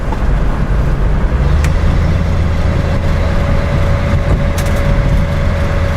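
A Datsun 280Z engine runs steadily while driving, a loud, continuous low drone with a sustained hum and faint rattles, heard from inside the car with no talking.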